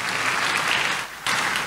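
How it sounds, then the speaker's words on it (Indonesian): A church congregation claps loudly during a worship service, the applause dipping briefly before surging again. "Kasih tepuk tangan yang meriah untuk Tuhan Yesus."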